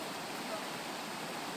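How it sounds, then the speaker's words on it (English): Floodwater rushes through Otterton near the mill and river, a steady broadband roar that stays even throughout, faint and unbroken, with no voices heard over it. "It's just absolutely deluge."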